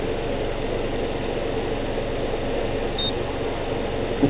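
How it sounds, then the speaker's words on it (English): A 2012 Subaru Outback engine idles steadily during CVT fluid service, a low even hum with no revving or speech. "I need to shut the engine off."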